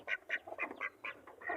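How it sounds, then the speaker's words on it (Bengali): Ducks kept in a pen behind a small house quack in a quick, faint, continuous chatter of short overlapping calls. "এই দেখেন হাঁসগুলো"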